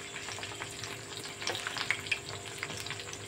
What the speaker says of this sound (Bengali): দেখুন বন্ধুরা হালকা হালকা ফ্রাই হচ্ছে